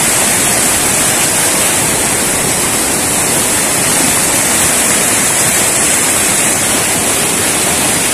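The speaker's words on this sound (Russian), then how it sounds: "Послушайте шум реки." The Kedrovka mountain river rushes loudly and without pause, a dense broadband roar of fast water heard close and steady throughout.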